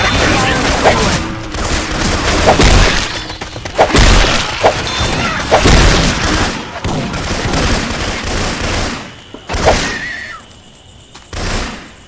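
Syphon Filter weapon sounds in Left 4 Dead 2: dense, loud bursts of rapid gunfire with booms, thunks and shattering, firing almost continuously with brief pauses, and voices speaking intermittently underneath.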